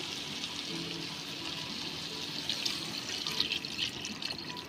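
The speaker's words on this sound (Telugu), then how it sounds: "చింత పులుసు పోసుకుంటా" Tamarind juice poured into a cooking pot, a steady soft liquid trickle and splash that runs throughout at moderate level, with no talk.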